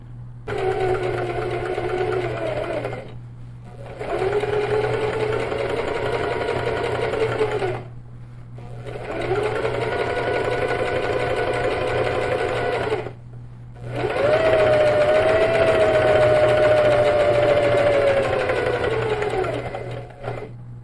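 A sewing machine stitches quilted matelassê seams, four long runs of steady, loud motor whirring with clear stops between them and a constant low hum underneath, no talk.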